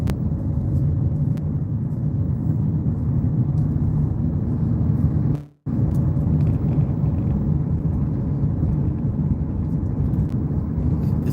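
Car driving around a big curve toward the 805 freeway north, a loud steady road rumble and engine drone that cuts out for an instant midway, then carries on, with no talking.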